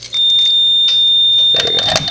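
A Simplex fire alarm sounds after its pull station is pulled during a new system test: a loud, steady alarm tone with pulsing horn bursts, joined near the end by a denser, louder blast of horn sound.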